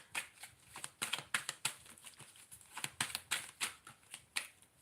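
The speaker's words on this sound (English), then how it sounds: "Okay, let me shuffle." Tarot cards are shuffled by hand in quick repeated riffles and slides, a steady run of crisp papery bursts, close but quiet, with no talking.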